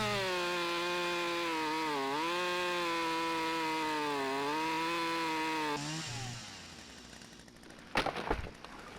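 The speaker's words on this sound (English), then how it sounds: "Woo! Smoky chainsaw." A smoky chainsaw in the video game Lumberjack Simulator runs steadily at a droning idle with small revving dips, then winds down and ends with a couple of wooden knocks.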